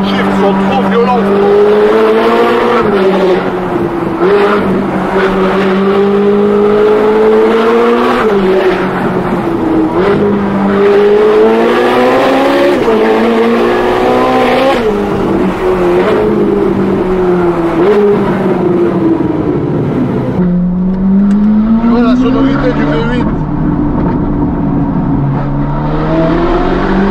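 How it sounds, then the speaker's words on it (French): A high-revving Ferrari engine roars loudly and continuously, its pitch climbing and dropping sharply as it downshifts at speed. "Là, les downshifts sont trop violents."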